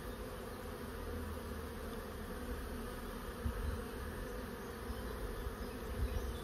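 A dense, steady drone of many honeybees buzzing together at a hive as worker bees bring in propolis, continuous and even throughout with no voices.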